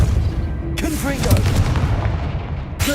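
The Confringo fire blast spell exploding in Hogwarts Legacy, a booming burst with crackling fire and rumbling low end, loud and sustained for a few seconds.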